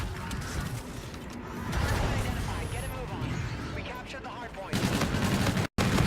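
NV4 rifle gunfire in Call of Duty: Infinite Warfare, rapid bursts and clattering shots in a game mix over a busy background, with a short dropout near the end.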